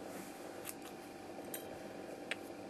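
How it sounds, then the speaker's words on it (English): Scissors snip through yarn while finishing off a crocheted coffee cup cozy, a few sharp, quiet cuts spaced over a low, steady room hiss. "What we're going to do is we're just going to cut, leave a little loop, cut the yarn."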